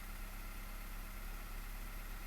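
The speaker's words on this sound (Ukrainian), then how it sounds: "вже чується пропльовки такі, пропуски. Під, Підтрушує так іноді на холостих." A Skoda Fabia engine idles with a steady low rumble, the misfire showing as slight uneven shaking and dropped beats in the running, heard close with no talk.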